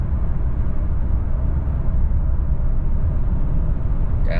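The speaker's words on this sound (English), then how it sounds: "Downshift." 2024 Toyota Tundra SR5 TRD Off-Road pickup towing a trailer at highway speed and downshifting, a steady loud low engine and road drone heard throughout.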